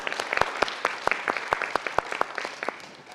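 Applause for teachers from a modest audience at a theatrical Shavuot program, sparse distinct hand claps in an uneven rhythm, fairly close and steady with no talking over them.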